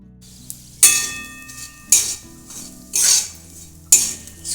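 Semolina with cashews is fried in ghee and stirred with a metal spoon in a pan, four distinct scraping strokes about a second apart over a faint sizzle.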